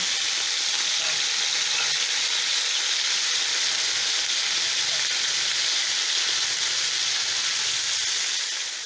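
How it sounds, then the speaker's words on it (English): Garlic skillet pork chops sizzle loudly and steadily in a hot pan, a dense, unbroken hiss that holds for the whole stretch with no voices over it. "I'm going to flip my pork chop"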